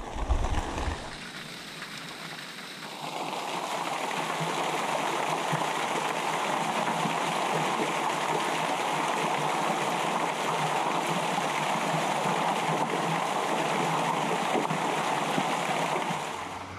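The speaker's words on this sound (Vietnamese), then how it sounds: "trên vách núi nó có cái suối chảy xuống rất là đẹp" A mountain stream pours down a cliff face, giving a dense, continuous rushing of water that stays loud and steady throughout, with no talking.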